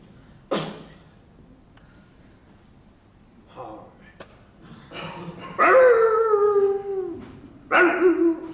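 A dog lets out a drawn-out, wavering howl near the end, with a shorter howl following. Speech and scattered thumps come before it in a quiet room.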